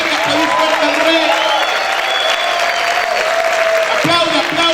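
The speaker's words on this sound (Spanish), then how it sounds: "¿Cuántos pueden gritar y aplaudir fuerte al Rey?" A church congregation applauding and shouting loudly, a dense sustained wash of clapping and cheering with raised voices throughout.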